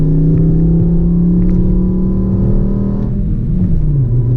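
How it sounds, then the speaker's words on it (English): A 2012 Mk6 Volkswagen Golf with the 2.5 engine, a loud, close droning engine hum with strong intake induction noise, the pitch holding steady and then easing down slightly near the end. "You got a lot of induction noise up in the front from that giant intake"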